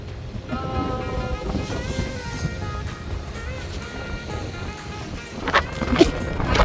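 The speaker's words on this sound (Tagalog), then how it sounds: "Sobrang lakas pa rin ng hangin eh." Steady, heavy wind rumble buffets the microphone outdoors on the Isle of Man, with a faint tonal hum in the background and gusts growing louder toward the end.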